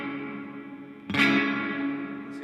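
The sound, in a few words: guitar through ambient reverb pedal with tone knob off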